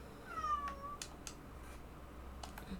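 A cat meows once in a video game, a soft drawn-out falling mew, followed by a few faint clicks and taps against a quiet background.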